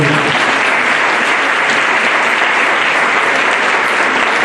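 Conference audience applauding at a talk on post-traumatic growth: a steady, loud, dense wall of clapping from many hands that holds evenly for the whole stretch with no voices over it.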